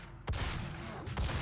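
Bursts of game gunfire from Doom (2016), a sharp loud volley starting abruptly and continuing as a dense, sustained clatter of shots with a second burst near the end.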